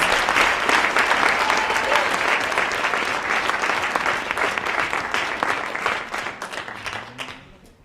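A conference audience at an event on ending the incarceration of women and girls gives a sustained, dense round of applause that fills the room, holding steady before thinning out and fading near the end.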